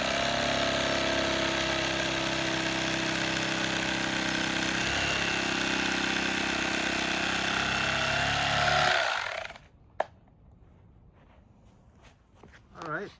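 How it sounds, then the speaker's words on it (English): A power saw cuts a notch out of a board for a Honda Element camper build, running loud and steady for about nine seconds before stopping abruptly, followed by a sharp knock and quieter shuffling. "I'm gonna cut a little notch out to compensate for that lump"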